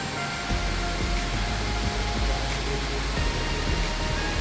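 An octagonal powder and spice blender runs at its full speed of 21 RPM, giving a steady, dense mechanical whir with faint rhythmic knocks throughout, and no voices.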